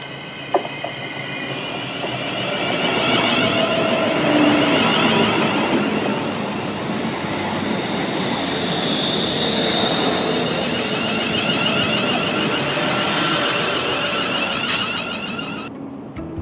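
A London Northwestern Railway passenger train bound for Crewe rumbles steadily along the rails at close range, with continuous wheel and track noise and occasional high metallic squeals.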